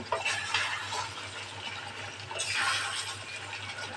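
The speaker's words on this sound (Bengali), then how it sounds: "এখন হালকা একটু নেড়ে চেড়ে দেওয়া হবে" Spiced potatoes and chicken cooking in a pan are stirred gently, giving soft wet scraping swishes over a low steady hum, with two brief louder stirring passes.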